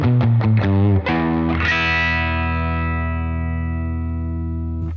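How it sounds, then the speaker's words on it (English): Electric guitar played through a UAFX pedal with an active spring reverb: a few clean picked notes, then a ringing chord that sustains and decays slowly in a long reverb tail, loud and close with no talking. "Here the reverb is a spring reverb and is basically an active spring."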